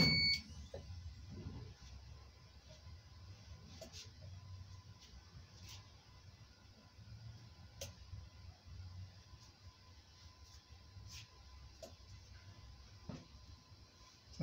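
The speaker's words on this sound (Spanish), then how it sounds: "Ya se va a sonar la alarma." A heat press timer alarm beeps faintly and intermittently while textile vinyl is pressed onto a T-shirt, with short electronic beeps over a quiet background hum.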